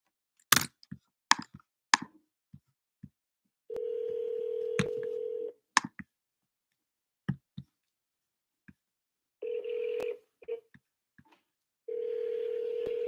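A phone being dialed for a cold call, with scattered clicks and taps among several sustained touch-tone beeps, each held for a second or two, clear and close in otherwise quiet surroundings.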